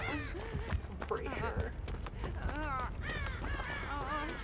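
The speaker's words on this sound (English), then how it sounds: "Scare all the crows, why don't you?" Crows caw in a Dead by Daylight match, harsh repeated calls from several birds in quick bursts, close and fairly loud, mixed with a player talking.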